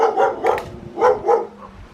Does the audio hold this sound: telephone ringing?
no